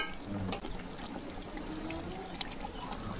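Ghee poured into a simmering katla fish rezala curry, giving a faint, soft liquid trickle and pour with small clicks and bubbling over a quiet background.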